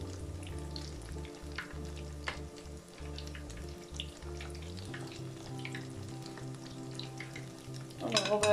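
Pineapple fritters fry in oil with a soft, continuous sizzle under a low steady hum, faint clatter and a louder rustle near the end.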